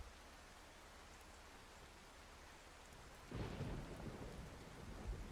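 Rain and thunder in the storm-chasing video game Outbrk: a steady hiss of rainfall, then a deep rumble of thunder swells in around the midpoint and carries on loud and broad to the end, with no talk.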